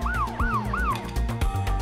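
An ambulance siren wails in quick repeating rising-and-falling whoops, loud and close, over a low engine rumble as the vehicle drives toward a hospital, with no talking.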